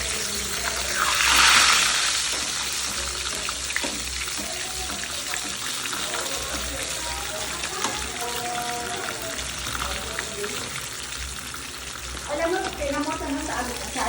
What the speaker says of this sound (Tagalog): Nag-prito-prito na tayo.